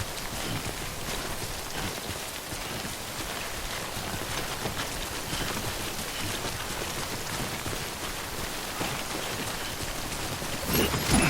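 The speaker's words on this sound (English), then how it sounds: "Good thing it was raining." Steady rain falls in the video game Death Stranding, a dense, even hiss of drops on surfaces lasting throughout, with a brief louder burst of spatter right at the end and no speech.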